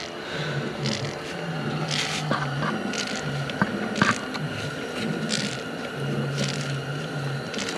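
A primer ball is pumped by hand to bleed the fuel system on a Kubota engine in a Bobcat skid steer, giving a repeated rhythmic squish and scrape, close up with no talking.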